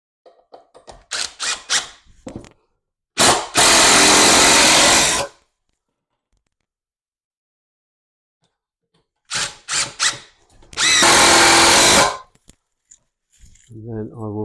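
A power drill drives screws into a wooden model railway baseboard in two loud, close whirring runs of about two seconds each, with handling clicks and rattles around them.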